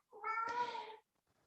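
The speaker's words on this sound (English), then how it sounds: "That was my cat." A house cat gives a single clear meow lasting just under a second, close and alone in an otherwise quiet room.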